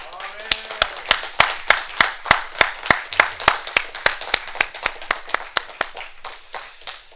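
A church congregation claps in a steady, even rhythm of sharp individual claps, close and loud, with some faint voices underneath.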